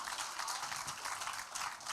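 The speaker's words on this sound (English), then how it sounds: "Another hand clap," Dense, steady applause from a large audience fills the room at a national AIDS symposium memorial lecture, sustained and fairly distant, with no voices over it.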